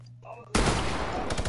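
Fortnite minigun opening up abruptly after a brief lull, a loud dense stream of rapid-fire shots roaring close and unbroken.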